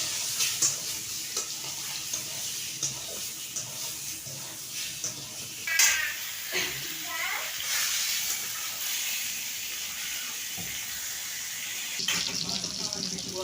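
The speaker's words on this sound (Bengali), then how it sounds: "বন্ধুরা দেখুন পটলগুলো রাঙা রাঙা করে ভেজেছি" Pointed gourd (potol) frying in oil in a pan, stirred now and then: a soft steady sizzle broken by intermittent scraping strokes of the spatula, close by.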